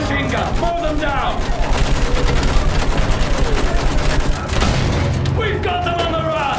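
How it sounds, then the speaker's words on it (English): Battlefield 1 machine gun fire rattles in rapid continuous bursts with booming explosions, loud and close, with shouted battlefield voices over it. "Use that machine gun. Pull them down."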